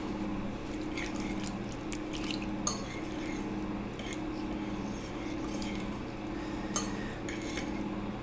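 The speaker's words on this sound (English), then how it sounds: "So now what we're going to do is we're going to whisk it up." A whisk clicks and taps steadily against a bowl while mixing the liquid for potatoes au gratin, quiet and close, with a faint low hum underneath.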